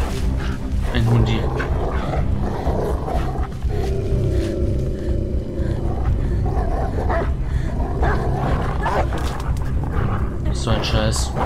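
A hostile dog in the video game Beyond: Two Souls growls and snarls in rough, close bursts, mixed with game sounds and a person talking over it.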